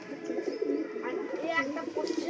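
Pigeons coo in a steady, overlapping murmur close by at a Bengal pigeon trading spot, with people talking over the birds throughout.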